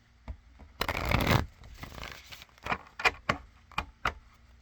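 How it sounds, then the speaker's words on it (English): Tarot cards being shuffled by hand, a dense riffling burst followed by several short, close papery slaps and taps with quiet pauses between them, no talking. "One more shuffle"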